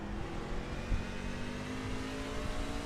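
Racing truck engine in an eNASCAR Craftsman Truck Series sim race, holding a steady, dense roar close up at high throttle for a few seconds, with no voices heard.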